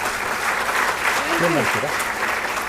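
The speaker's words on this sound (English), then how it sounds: "Can we have a big round of applause, please?" Audience applause at a WiDS India data science conference in Bengaluru, a steady broadband clapping wash filling the hall, with a brief spoken thanks over it.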